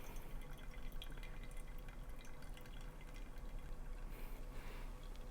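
Water is poured over coffee for an iced double brew, a soft continuous trickle and drip of liquid streaming into a brewer, steady and close with no talking.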